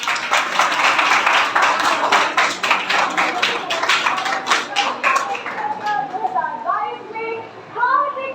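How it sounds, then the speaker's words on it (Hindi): Applause in a stadium as a prime minister arrives at a large exam-discussion event, a dense steady roar of clapping for about six seconds before it thins out under a speaker's voice. "तालियों की जोरदार गड़गड़ा है।"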